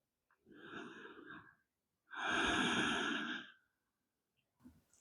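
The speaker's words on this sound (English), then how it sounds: "Take a few rounds of breath, softening the body." Two slow, deep breaths during a yoga child's pose, a long exhale followed by a fuller, louder breath, heard close and alone in a quiet room, with a faint third breath starting at the end.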